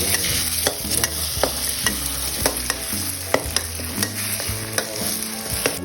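Noodles are stir-fried in a little oil in a pan for Thai suki, a steady sizzle with regular scraping strokes of the spatula roughly every half second, close and without voices.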